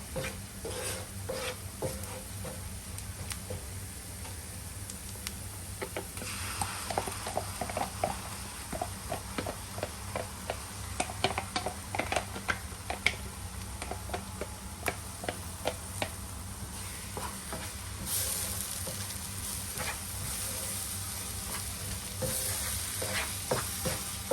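Ground masala paste for paneer butter masala is stirred as it fries in a pan, giving a continuous close sizzle broken by frequent scraping and tapping of the spoon against the pan, with no talking.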